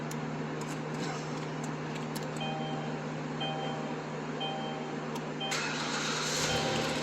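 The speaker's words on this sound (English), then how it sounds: "So now we'll restart the vehicle" A car engine idles in an enclosed garage, a steady low hum with a faint repeating electronic chime over it and a rise in noise near the end. Nobody speaks.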